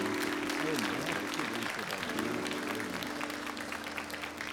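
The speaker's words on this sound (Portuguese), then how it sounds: "Uma salva de palmas." A congregation at a church praise service claps to welcome Padre Reginaldo, giving sustained applause with a voice speaking over it.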